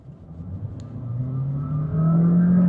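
A 2022 Honda City 1.0 RS e:HEV hybrid accelerates, its drone steadily rising in pitch and loudness over a few seconds, heard close with no talking.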